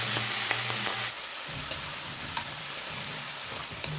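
Washed fenugreek leaves stirred into sizzling tempering for fenugreek dal: a brief opening tone gives way to a soft, continuous frying hiss with occasional light scrapes and taps from the stirring.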